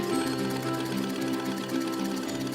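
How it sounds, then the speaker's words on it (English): An electric sewing machine stitching fabric for a quilt, giving a steady, fast mechanical chatter that runs loud and continuous throughout, with no talk over it. "We can sew. There you go, you can sew."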